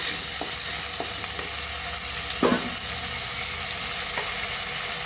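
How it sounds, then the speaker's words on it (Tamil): Onions and chopped tomatoes fry in sesame oil for an egg omelette curry, a steady close sizzle broken by a few scraping stirs and one louder clatter midway, with no talk. "அதையும் சேர்த்து இப்போ நல்லா வதக்கிக்கணும்."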